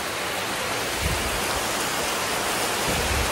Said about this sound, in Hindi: ये बारिश रुकने का नाम नहीं ले रही है